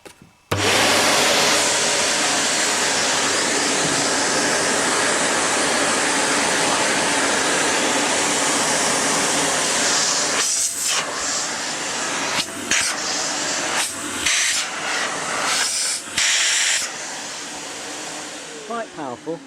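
A Morphy Richards 73415 Shark Lift Away vacuum cleaner with a turbo nozzle fitted starts up and runs with a loud, steady roaring whine, then sputters and chokes in uneven bursts as it sucks up debris before cutting off.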